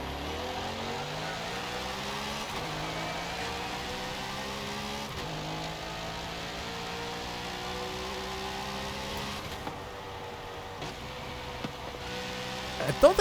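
A Chevrolet Corvette Z06 engine in Forza Horizon 5 revs through rising and falling gear pulls, a steady mid-pitched drone climbing repeatedly, with soft talk underneath and brief clicks near the end.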